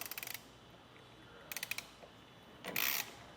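Ratchet wrench with a 1/2 inch socket on the nuts of a truck bed ladder rack for a 2024 Ram 1500, three short bursts of rapid clicking separated by pauses, close but fairly quiet.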